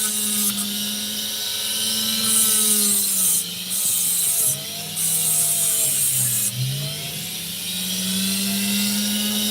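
An opal being ground and shaped on a spinning wheel, a continuous high whining grind with a low motor hum, pitch dipping and recovering as the stone is pressed and angled against it.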